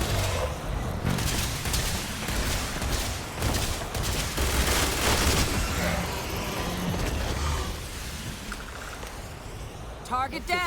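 Dense, continuous gunfire and explosions from a chaotic video game firefight, loud and sustained for most of the stretch before easing slightly toward the end.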